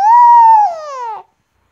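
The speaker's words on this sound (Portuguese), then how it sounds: "Vai, dá um mia pra eles." A single cat meows once, close and clear, a drawn-out cry that slides downward in pitch before stopping abruptly, followed by silence.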